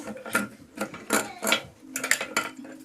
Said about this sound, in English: To release the faucet, we have to undo these nuts, and it doesn't look like they're going to go by hand, so time to break out the pliers